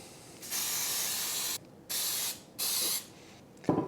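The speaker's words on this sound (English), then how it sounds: "This is baking spray." Three sharp hissing bursts of flour-containing baking spray from an aerosol can onto a bundt pan, each lasting about a second, close up with short gaps between them.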